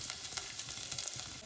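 Garlic dropped into hot oil in a pan for a spicy crab curry, giving a faint, steady crackling sizzle heard alone at close range.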